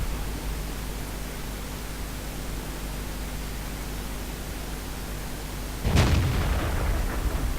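A single heavy tank cannon shot from World of Tanks, fired from an M18 Hellcat, booms out loud near the end over a steady roar of engine and ambient game noise.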